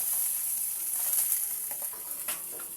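Food frying in oil sizzles with a bright, constant hiss, with faint stirring scrapes and crackles in the latter half of the brief moment.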